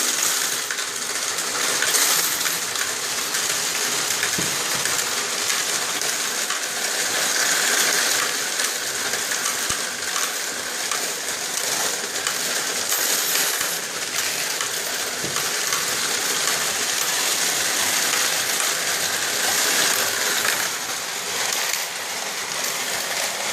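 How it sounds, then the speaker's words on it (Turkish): An SC 813h coin counting machine with an LCD screen and large coin boxes runs steadily while loose coins are poured in, giving a dense, continuous metallic clatter and rattle at close range with no talking. "Start tuşuna bastığımız zaman da makine çalışmaya başlıyor"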